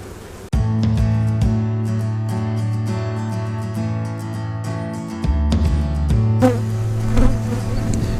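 Honey bees drone loudly at an opened hive during a spring split, a continuous close buzzing hum with shifting pitch and a few sharp knocks and clicks over it.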